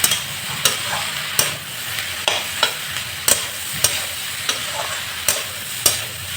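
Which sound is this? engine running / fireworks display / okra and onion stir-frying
okra and onion stir-frying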